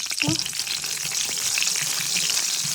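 Cumin seeds frying in hot fish oil in a pan, a loud, steady close sizzle with a brief stirring scrape near the start.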